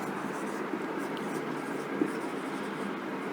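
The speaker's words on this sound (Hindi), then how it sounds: "यहाँ पे लिखती हूँ" A pen writing by hand on paper, close and scratchy, with short strokes and small taps in a steady run.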